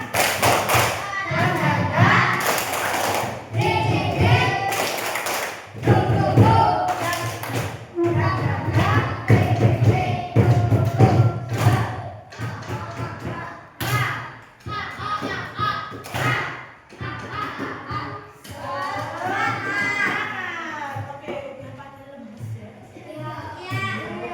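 Schoolchildren in a classroom do a tepuk semangat spirit clapping chant, loud rhythmic hand claps and thumps in repeated patterned bursts, mixed with children's chanting voices.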